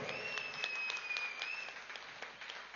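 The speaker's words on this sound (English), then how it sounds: "Can we have a huge round of applause for Patri ji?" An audience at a breathing workshop gives a faint, steady round of clapping, with a thin sustained tone running through it.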